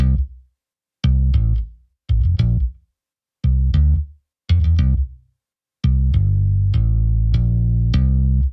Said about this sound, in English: this Chapman bass preset from Trillion, which is like a Chapman stick mute bass